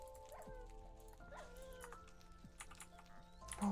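A Minecraft dog yips and whimpers in short, faint bursts, a few soft barks and whines spaced across the moment, with a louder burst at the end.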